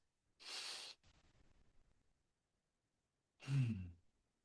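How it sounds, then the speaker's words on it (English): Slow, deliberate breaths from a Tai Chi instructor: a long airy exhale, a softer breath trailing after, then another audible breath a few seconds later, close and alone with no talking. "breathe as slow as you can without feeling out of breath. If you breathe like this"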